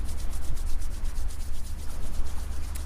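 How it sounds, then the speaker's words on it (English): Palms rubbing briskly together during a qi gong exercise, a steady close swishing repeated in fast, even strokes with no speech. "rubbing the hands together"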